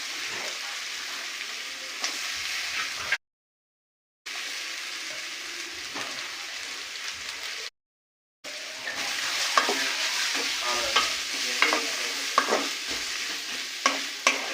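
Chopped vegetables frying lightly in a little melted butter: a steady close sizzle with occasional stirring scrapes and clicks, broken by two short silent gaps.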